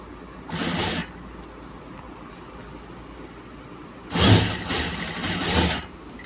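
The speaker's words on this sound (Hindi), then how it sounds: "मैं लब की सिलाई लगा रहा हूँ इसमें" A tailor's sewing machine stitches a gents' shirt seam in two short runs, one brief and one longer, close by against a quiet room hum.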